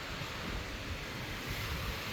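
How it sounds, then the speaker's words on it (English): Steady rushing wind at a Cozumel beach resort buffets the microphone, a continuous broadband roar with low rumbling gusts and no voices. "It's pretty windy"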